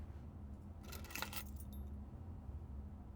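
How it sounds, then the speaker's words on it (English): A spare set of car keys jangles briefly in Blue Prince, a short bright metallic rattle of about half a second over a quiet low ambient hum. "A spare set of car keys."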